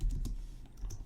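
A few quick keystrokes tap on a computer keyboard, quiet and close, in a short irregular burst with no voices.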